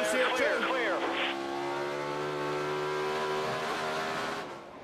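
A NASCAR Sprint Cup race car at full throttle at Watkins Glen International in 2011, engine roaring loud and close with rising and falling revs, with a commentator's voice over it.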